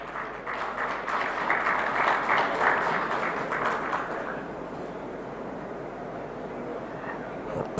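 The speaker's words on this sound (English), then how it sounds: "A big round of applause, please." A sustained round of applause from an indoor audience at India Maritime Week, a large maritime exhibition in Mumbai, claps steadily and evenly before slowly thinning out.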